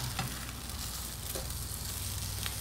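Faint steady sizzle of a cheese crust frying in a pan for a hot cheese sandwich, with a soft low hum underneath and a couple of small clicks, no talking.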